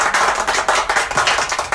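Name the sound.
class clapping for a pupil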